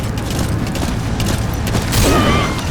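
Shotgun fire in Metal Gear Solid V: The Phantom Pain, a heavy boom rising out of steady background game noise near the end, loud and close.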